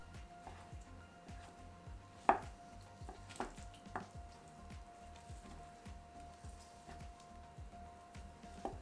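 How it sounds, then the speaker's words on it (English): Shiitake mushroom caps chopped with a knife on a cutting board, a quiet string of quick, close, irregular taps with a few sharper knocks, alone without voices. "I cut each cap into slices, then do the same thing, rotate the pile,"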